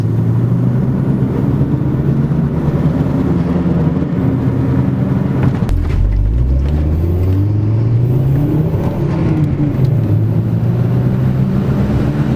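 A truck launches hard from a stop. Its engine roars steadily and loudly and climbs in pitch, dips briefly at a gear change, then winds up again. No one talks.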